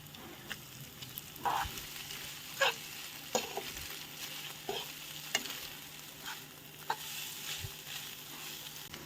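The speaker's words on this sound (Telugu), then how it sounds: "మనం ముందుగా కుక్ చేసి పెట్టుకున్న మ్యాగీని అయితే యాడ్ చేసుకుని ఒకసారి అయితే మిక్స్ చేసుకోవాలి" Maggi noodles stirred together with fried onions in a pan, giving a steady sizzle broken by irregular scraping stir strokes and soft clacks, close and moderately loud with no talking.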